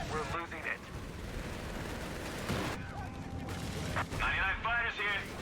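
An air strafing run in the World War II video game Company of Heroes 3, with rapid bursts of aircraft gunfire and explosions rumbling over battle noise, while someone talks over it.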